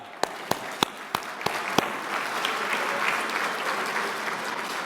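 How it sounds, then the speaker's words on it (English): Applause at an awards dinner starts with a few sharp, separate claps and quickly swells into sustained, even clapping from a large crowd that fills the room. "Let's give some applause for Lonnie and Luann."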